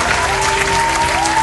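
A church congregation claps steadily for children at a Hindi Sunday service, a dense, even wash of hand claps filling the room, with a faint tone running beneath.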